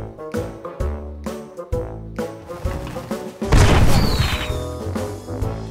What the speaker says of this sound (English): Let's do cannon.